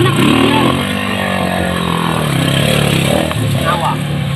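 An automatic motorcycle with no working brakes revs loudly close by, a sustained buzzing engine note rising and holding with voices mixed in.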